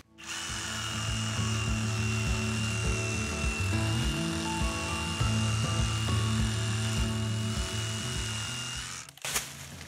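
A power tool cuts through bamboo up close with a loud, steady motor whine and rhythmic grinding pulses, slowing and dropping off at the end as the cut finishes.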